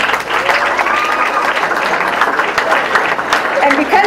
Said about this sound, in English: please give your parents and families a round of applause